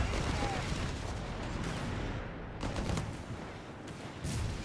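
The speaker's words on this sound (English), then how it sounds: "just a few blasts from the FD-42s they're wielding" FD-42 rifles firing in a Company of Heroes 3 battle, a dense, continuous crackle of gunfire and blasts layered over busy wartime game noise, with short bursts standing out near the end.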